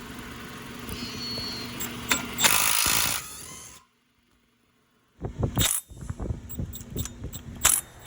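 A Milwaukee right-angle 3/8-inch impact wrench zings loose a brake caliper bolt on a Honda Civic, giving short loud mechanical bursts, a pause of near silence, then a rapid run of sharp hammering impacts.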